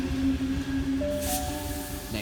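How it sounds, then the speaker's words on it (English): A Sydney Trains T18 set pulls into platform 4 with a steady low rumble, a faint whine and a brief hiss near the end, no talk. "T18 has just pulled up just at the other end of platform 4."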